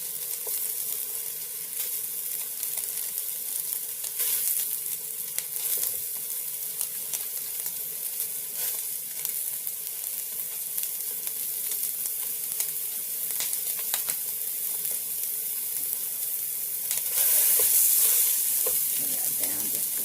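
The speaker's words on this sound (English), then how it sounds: "But we're gonna fry this up." Country sausage fries in a pan over a propane burner, a steady close sizzle and crackle running throughout with brief stirring scrapes and a slightly louder burst near the end.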